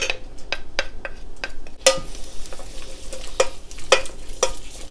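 Onion and garlic frying in a tablespoon of vegetable oil in a pot over medium-high heat, a soft sizzle broken by sharp repeated clicks and scrapes of a utensil stirring against the pot.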